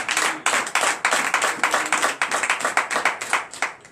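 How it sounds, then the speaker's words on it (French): Rhythmic clapping from a church congregation during a Sunday worship service in Comè, Benin: steady, loud, evenly spaced claps sustained throughout. "Donnez encore plus d'acclamation au Seigneur"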